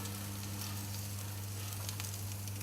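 Steak sizzling steadily on a braai grill just after being flipped, a continuous close hiss with a low hum underneath and no voices.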